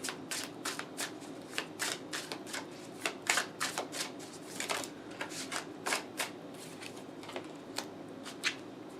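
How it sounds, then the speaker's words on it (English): Tarot cards are shuffled and drawn close up in a steady run of crisp card snaps and riffles over about nine seconds, with no talking. "Can I have 3 cards for the conjure? One more card."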